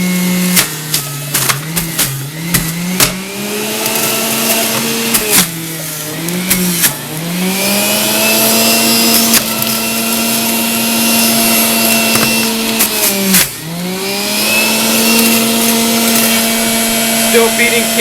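Breville Juice Fountain Elite or Omega Mega Mouth BMJ330 juicer processing carrots, a steady loud motor whine that dips and recovers in pitch each time carrots are pushed down the feed chute, continuing throughout.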